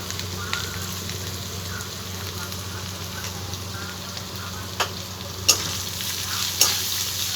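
Spices with salt, turmeric, chilli powder and cumin powder fry in a pan, making a steady soft sizzle broken by a few sharp clicks of stirring toward the end.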